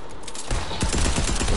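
Rapid gunfire from a weapon in the video game Fortnite, a burst of repeated shots starting about a third of the way in and continuing steadily, loud and close.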